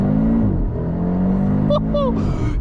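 An Audi RS3 engine drones steadily and shifts pitch as it revs, close and loud, with a voice speaking briefly near the end.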